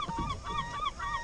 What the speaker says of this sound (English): And my seagulls are back.